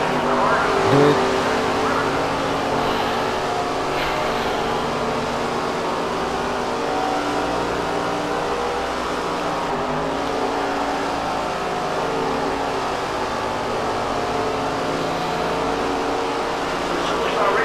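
Race cars in the SRX racing video game roar in a dense, unbroken engine drone, several cars revving and shifting together at full throttle over the whole stretch, with a commentator's voice in the mix.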